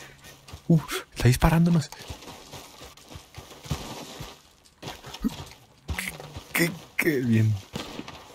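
Horse hooves clip-clop in Red Dead Redemption 2 online play, short uneven bursts of steps heard under someone talking loudly in Spanish, with background game noise.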